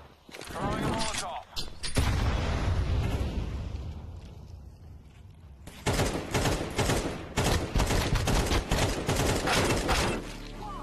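Gunfire in Counter-Strike 2, dense loud bursts of rapid shots with a heavy blast early on, mixed with voices talking over the action.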